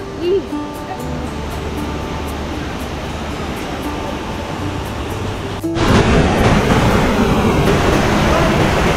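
Vera Falls, a waterfall in Bicol, gives off a steady roar of rushing water that swells noticeably louder about two-thirds of the way through. Faint voices break in briefly near the start.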